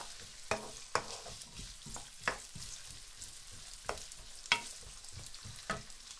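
Onions fry in a pan over maximum heat, giving a steady low hiss and crackle while a spoon scrapes and stirs, with sharp metallic clinks landing every second or so, close up and with no voices.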